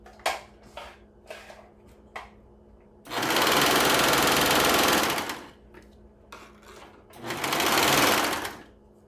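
A serger sewing machine stitches fabric, set between 4 and 5, in two loud, close bursts of rapid whirring, with quieter clicks and handling noises between them.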